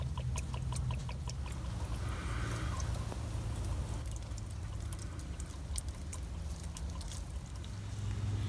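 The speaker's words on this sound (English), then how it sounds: "I'm going to attach a fuel line right here. drain that fuel out to the bottom." Diesel fuel drains from the fuel filter of a Cummins 6.7-liter diesel engine, a steady trickling pour with faint dripping over a low background hum, continuous and close.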